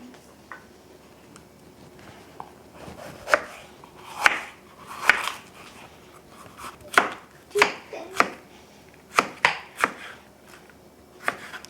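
A knife chops vegetables on a cutting board for a cheese crust pizza, a dozen or so close, sharp, irregular knocks separated by brief pauses, with no talking.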